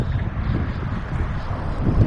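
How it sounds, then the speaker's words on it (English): Strong wind buffets a GoPro Hero5 camera microphone in an outdoor parking lot, producing a loud, continuous low rumble with no clear speech. "It is windy out here. And it's blowing at me straight in the face."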